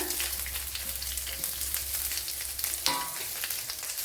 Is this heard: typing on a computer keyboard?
no